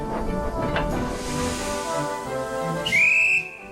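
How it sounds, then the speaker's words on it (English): A guard's whistle on a wooden toy railway layout, short and shrill, sounds near and loud for about half a second as a departing train gets ready to pull away, following a soft rumbling background. "The guard's whistle blew and Eggward steamed gently away."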